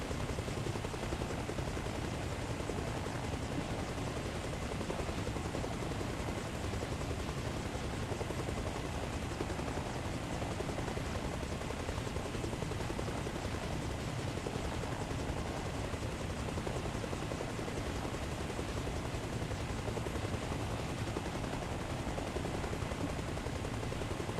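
A helicopter in the Arma Reforger combat game hovers and taxis, producing a dense, continuous rotor-and-turbine roar that stays loud and unchanging throughout, with rapid chopping texture and no talk.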